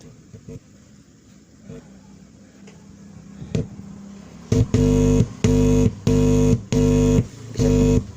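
Low rumbling background, then a mid-high speaker in a two-way tone control setup blares a repeating tone in five even bursts, loud and close.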